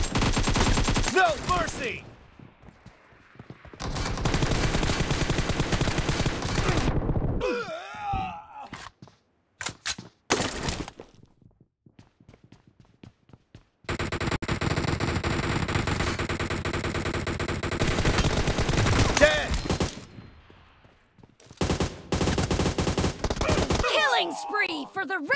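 Bursts of rapid automatic gunfire from a BGMI team deathmatch, loud and repeated in clusters separated by brief pauses, with a voice speaking briefly in between.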